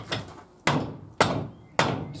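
Three sharp hammer blows, evenly spaced, ring out close by as rubber tyre strip is knocked down onto a wooden wheel rim, with a softer strike at the start.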